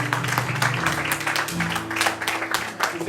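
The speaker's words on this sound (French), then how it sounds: "Applaudissons au Seigneur." A church congregation applauding together at the close of a Sunday anniversary service, steady dense clapping filling the room over sustained music.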